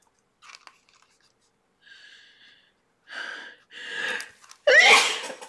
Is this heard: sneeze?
yes